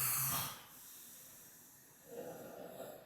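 People asleep on couches snoring, faint rasping breaths: a hissy snort at the start, a quiet pause, then a longer droning inhale, with no talking.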